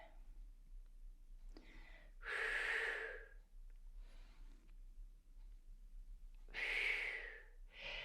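Two strong breaths during a Pilates exercise, each a loud airy exhale through the nose or mouth, with quieter breathing and faint rustle between them, close and without talking.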